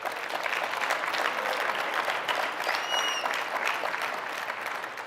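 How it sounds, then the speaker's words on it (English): A large conference audience applauding, a dense, even wash of many hands clapping at steady volume throughout, tapering slightly at the end. "I hope you appreciate the applause."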